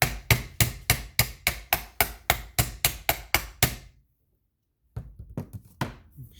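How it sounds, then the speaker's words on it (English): Sharp metallic taps from a small ball peen hammer driving a brush shroud onto the rear of a motor: a steady run of about a dozen evenly spaced close blows, a pause, then several more. "And tapping around it so it doesn't all go in one spot. Try in the middle. Just using a little ball peen hammer."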